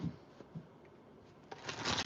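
A deck of tarot cards is shuffled in a few soft, brief riffles, quiet and close, ending in a slightly longer flutter of cards.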